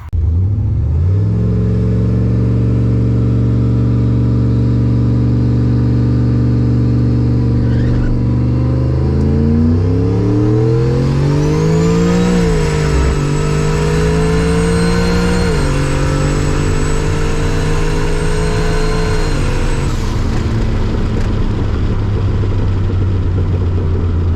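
Turbocharged drag race car fitted with an S485 turbo, its engine loud and close as it idles, then climbs through rising revs with gear-change dips into a high screaming pull before dropping off.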